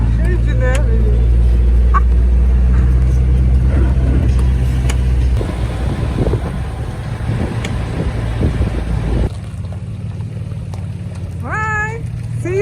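A Land Rover Defender 110 driving on a snowy road in Norway, a steady low engine and road rumble beneath a person talking throughout.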